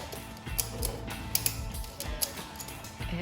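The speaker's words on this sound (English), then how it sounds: "ratchet strap from one knuckle down to the other knuckle and crank and see if we can get it to pop" A ratchet strap is cranked tight between the axle knuckles of a Ford Super Duty Dana 60 front axle, giving a run of short creaking clicks and ratcheting pulls at an uneven pace, close and fairly quiet.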